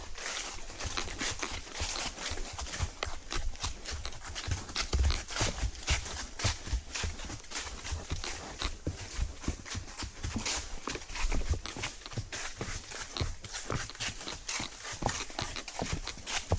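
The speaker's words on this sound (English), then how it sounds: "a loose 2-year-old horse galloping around" A loose two-year-old horse gallops around, its hooves clip-clopping in a fast, steady, uneven beat close by over continuous outdoor noise, with no one talking.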